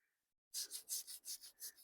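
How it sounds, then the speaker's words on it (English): Quick back-and-forth rubbing of sandpaper on a wooden Kaywoodie Oom Paul pipe stummel, about nine even strokes in a steady rhythm, close up and soft. "I'm going to start sanding on it"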